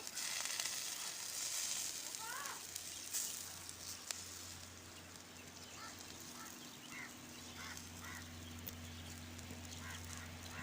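Fish coated in garlic, oil and masala sizzles steadily while grilling, a soft continuous crackle with occasional faint pops under a low background hum, no talking.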